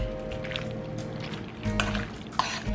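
Beaten egg being stirred into raw chicken pieces in a bowl, giving soft, wet squelching and sloshing that comes and goes against a low steady hum, with a couple of sharper clinks near the end.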